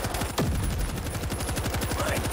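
Steady, rapid machine gun fire in World War Z rattles on without pause, a fast even string of shots loud and close throughout.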